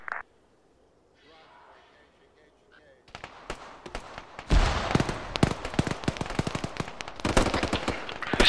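Gunfire in a military video game: after a quiet start with faint voices, dense rapid bursts and single shots crackle loudly and continuously, and talk is partly heard underneath.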